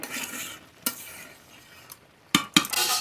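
Food frying in a pan while cooking leafy greens, a soft sizzle broken by sharp scrapes and knocks of a spatula stirring against the pan, two quick clanks near the end.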